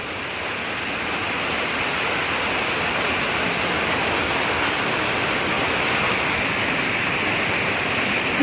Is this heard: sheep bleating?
no